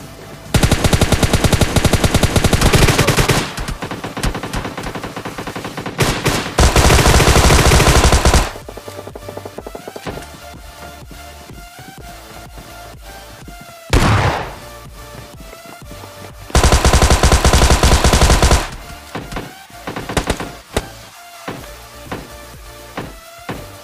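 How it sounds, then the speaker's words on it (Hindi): Gunfire in the PUBG Mobile Lite video game, loud sustained automatic bursts in several long stretches separated by sparser single shots and quieter game sounds, close and dominant with no talk. "सामने की तरफ मुझे कुछ गन साउंड आते हैं"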